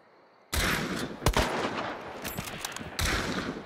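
Bursts of gunfire in a video game, several loud volleys of rapid shots starting abruptly, with sharp individual cracks and a sustained barrage that pauses briefly before another loud burst near the end.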